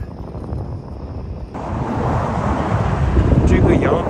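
Wind gusting across open mountain grassland on a cold, overcast day, a steady broadband rush that swells louder after the first second and a half and keeps buffeting the microphone.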